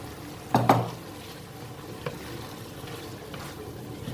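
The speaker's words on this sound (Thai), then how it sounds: "ปิดเตา มันยังเดือดอยู่" A spicy Thai beef stir-fry keeps bubbling softly in the pan after the stove is switched off, with a faint sizzle and a few sharp clinks of a utensil against the pan, quiet and close.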